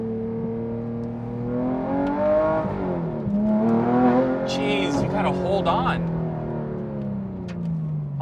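A Porsche 997 GT3 fitted with a DeMan 4.5-litre engine accelerates hard, its engine note climbing steadily through the gears with a rising harmonic whine and a brief shift dip. A nearby voice exclaims over the loud, close engine.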